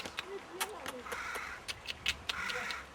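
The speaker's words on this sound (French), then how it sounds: "c'est la corneille noire" Carrion crow calling in short harsh caws, several spaced bursts at moderate distance, with faint human voice and background noise around.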